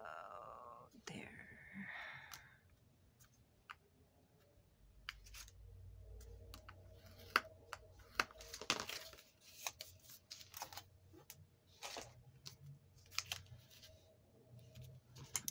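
Scissors snip paper to cut out a small Valentine's Day card, making close, crisp cuts in scattered bursts. Soft rustling of paper and quiet breathy sounds come between the cuts.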